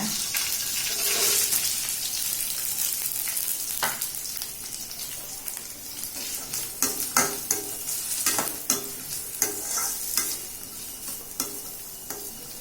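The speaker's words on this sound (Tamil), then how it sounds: "வெங்காயம் நல்லா வதக்கணும்" Onions sautéing in a pan for a blood stir-fry, a steady sizzle with repeated stirring scrapes and clatters that grow more frequent, nearby and fairly loud, with no talking.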